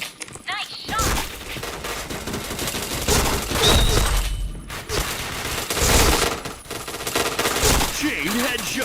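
Rapid bursts of automatic gunfire from the shooter game Point Blank crackle in dense volleys with short pauses, loud and close, while voices talk over the shooting.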